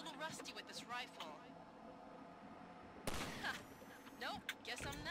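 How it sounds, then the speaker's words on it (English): A rifle shot cracks out at a ladder latch in Half-Life 2, a sharp burst midway through amid game noise, with someone talking before and after it. "Let me shoot out the latch."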